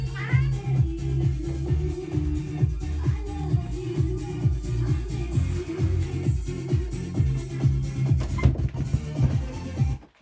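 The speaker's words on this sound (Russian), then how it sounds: "сладкая кошка." A house cat meowing repeatedly up close, with drawn-out, complaining yowls in a continuous string and a brief scratchy noise near the end.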